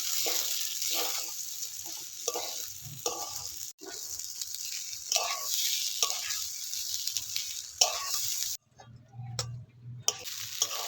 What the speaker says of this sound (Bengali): এবার আমি এই চালগুলো দিয়ে দিচ্ছি একটু একটু করে চাল দেবো